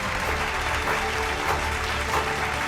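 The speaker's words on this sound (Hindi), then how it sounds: "तो जोरदार तालियां इनके लिए भी।" Applause for award winners at a national achievement day celebration, a steady, moderate clapping that holds evenly throughout with no voices over it.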